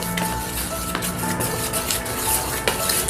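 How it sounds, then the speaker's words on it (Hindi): Masala rava idli batter being stirred and mixed in a bowl, with steady scraping and clinking of a spoon against the vessel, fairly close and continuous with no talking. "इसे अच्छी तरह से मिक्स कर देंगे।"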